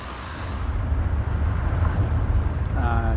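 Tourist bus engine in Tourist Bus Simulator, a steady low droning rumble with a buzzing, fryer-like crackle on top, close and continuous, with a short whine near the end.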